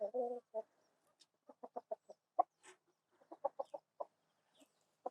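A farm rooster clucks in short, separate bursts with quiet gaps between them, close and moderately loud, a few calls coming in quick runs.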